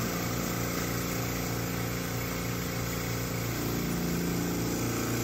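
A vacuum pump pulls the air out of a guitar neck clamp with a steady, loud mechanical drone and hum, running continuously with a slight shift in tone partway through.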